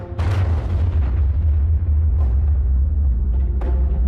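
A nuclear bomb test, the Baker shot, sounds as a deep rumbling blast with a sharp burst at the start, sustained low roar and further booming cracks, loud and alone without talk.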